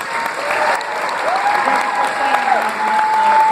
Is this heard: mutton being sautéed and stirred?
no